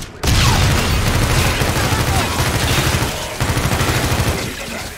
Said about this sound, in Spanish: ¡Granada! ¡Moveos! ¡20 metros!